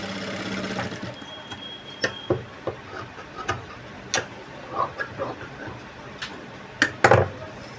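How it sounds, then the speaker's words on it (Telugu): A sewing machine stitches the waistband of a blouse in a series of short, irregular mechanical bursts and clicks, close by, with pauses between runs and no talking. "చాలా ఈజీగా నడుము పట్టి అనేది స్టిచ్చింగ్ చేసుకోవచ్చు"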